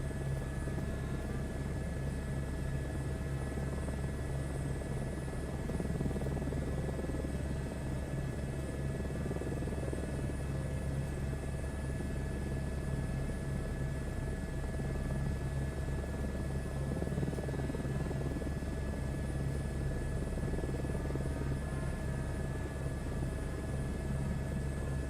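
A simulated helicopter in Microsoft Flight Simulator 2024, its rotor and turbine engine droning at a constant, loud, unbroken hum with a low throbbing beat throughout.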